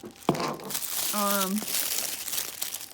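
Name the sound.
unwrapping paper wrapping of Black Series figure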